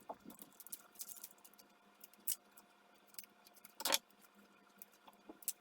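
Scissors snip along the edge of a plastic bag being trimmed even, giving a few scattered sharp cuts with quiet pauses between them, close and fairly faint.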